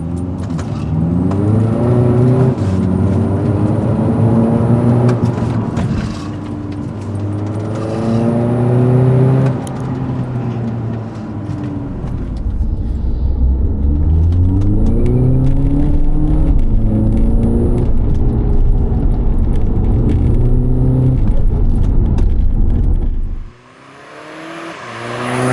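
A VW Jetta with a tuned 2-liter turbocharged diesel engine and DSG gearbox pulls hard on the road, its steady loud drone rising and falling through the gears for most of the run before cutting off abruptly near the end.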